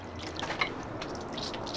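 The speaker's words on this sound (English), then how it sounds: "let's pan this out because now I'm curious." Water dripping and lightly splashing in a gold pan while panning out a metal-detecting find, with a few distinct close drips over a soft watery wash and no talk.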